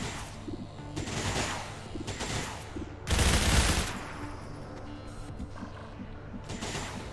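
Gunfire in XCOM 2 sounds as several bursts of automatic weapon fire, with one loud, dense volley in the middle standing out above quieter rattling bursts and mechanical noise.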